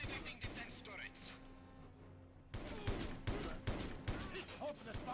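Defense turrets fire in the video game 007: Everything or Nothing as bursts of rapid gunfire erupt in the second half, following a stretch of in-game voices and rumbling effects.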